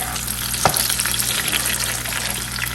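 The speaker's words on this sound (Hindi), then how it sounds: "ऑयल में भूनेंगे।" Goat liver with tomato paste frying in oil on a flat iron tawa, a steady close sizzle with a brief scrape of stirring.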